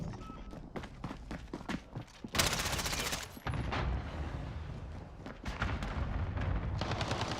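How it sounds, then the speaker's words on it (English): Cluster strike explosions and heavy gunfire in Call of Duty: Modern Warfare, a run of rapid cracks followed by a loud sustained burst and rumbling blasts, dense and close throughout. "Enemy cluster strike incoming"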